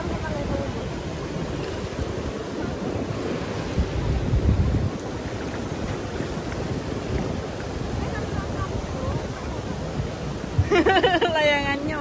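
Strong wind buffeting the microphone at a beach, with a continuous roaring rumble of gusts and surf, and a brief voice near the end.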